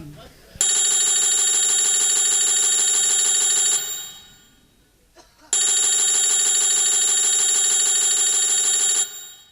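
A loud electronic ringtone trills continuously for about three seconds, falls silent briefly, then rings again for another long burst.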